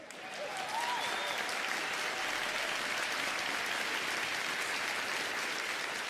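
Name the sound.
applause sound effect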